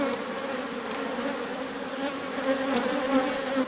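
Honeybees at a wooden Mini Plus hive with a cracked lower section buzz in a steady, dense drone, a close and continuous hum from many insects.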